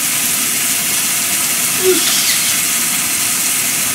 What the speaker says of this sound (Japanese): こうやって、肉が、炒まるのを待つわけでございますね